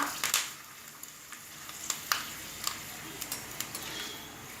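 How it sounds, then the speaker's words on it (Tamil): Sun-dried cluster beans fry in a little hot oil in a pan, giving a soft background sizzle dotted with small crackles and pops that come irregularly, fairly quiet and close. "ஒரு சட்டியில் கொஞ்சமாக எண்ணெய் ஊற்றிட்டு அது காஞ்சோன்னே நீங்கள் கொத்தவரங்காய் வத்தலை போட்டுக்கோங்க"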